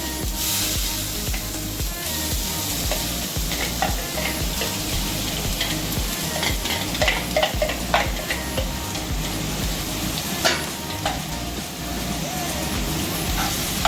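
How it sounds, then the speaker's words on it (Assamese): Chopped onions frying in hot oil crackle and sizzle loudly and continuously, with spatula stirring and scraping against the pan, close and alone. "এতিয়া আপোনালোকে গৰম তেলত মই কাটি থোৱা পিঁয়াজখিনি"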